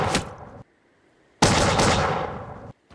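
Musket gunfire in the video game Empires of Europe, two loud dense bursts of volley fire, the first brief and the second longer, separated by near silence.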